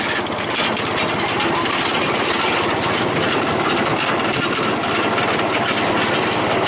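A riding mower engine runs loud and close with a constant rough, rattling drone, steady throughout with no pauses or voices.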